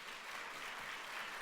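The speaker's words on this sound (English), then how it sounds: "you're not supposed to clap because I'm a Muslim" An audience at a library meeting applauds with dense, even clapping that holds steady throughout, moderately loud and without voices over it.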